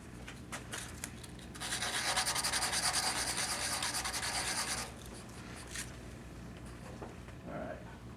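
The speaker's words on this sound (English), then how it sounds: "I'm going to use some sandpaper on it before I press it together." A turned pen part is rubbed with sandpaper in a steady, close, scratchy hiss lasting about three seconds, followed by a few softer brushing scrapes in an otherwise quiet room.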